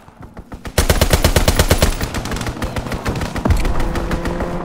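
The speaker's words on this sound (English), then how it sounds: "Strafing run inbound." Strafing-run gunfire in Call of Duty WWII, a loud, rapid stream of machine-gun shots that starts abruptly after a short quiet lead-in and hammers on steadily, with heavy impacts near the end.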